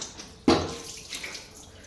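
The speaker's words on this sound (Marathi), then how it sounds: "अगोदर पाणी ओतून भिजवून घेते" A short, sudden splash of water poured onto a gas stove hits the metal surface, then trickles and drips quietly for a moment.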